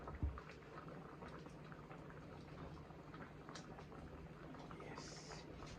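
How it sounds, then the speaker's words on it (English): A pot of stew peas bubbles quietly on the stove, a soft continuous simmer close up with faint pops, while a person talks nearby. "Look at bubbling."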